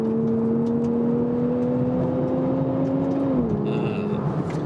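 A high-performance car engine revving, a smooth steady drone that holds its pitch and then drops slightly, close and loud.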